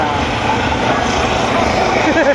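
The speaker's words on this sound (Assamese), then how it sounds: "অসমৰ আকাশত হেলিকপ্টাৰ উৰিছে" A helicopter flying in the sky over Assam, heard as a loud, steady rotor and engine drone that holds throughout, with faint voices appearing near the end.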